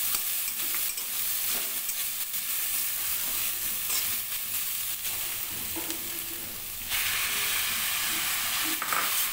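Grated coconut and chickpeas fry in a pan while being stirred, a continuous bright sizzle with scraping spatula strokes, growing slightly louder near the end.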